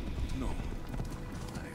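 Horse hooves clop at a gallop in Assassin's Creed Odyssey, a steady quick rhythm sitting faintly under game audio, with talk over it.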